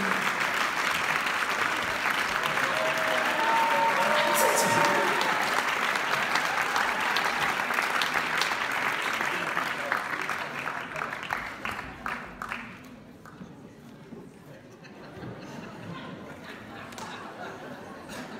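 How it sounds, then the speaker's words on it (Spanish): Sustained applause from a festival crowd at a tango marathon in Basel for the DJ, loud and dense for about twelve seconds, then thinning to scattered claps and murmuring voices. "Fuerte el aplauso para Virulazo, the DJ, the great DJ."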